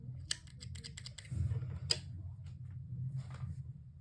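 Scissors cutting pink yarn during crochet appliqué work: a few quiet, close snips and clicks near the start and another sharp snip, over a soft low background hum.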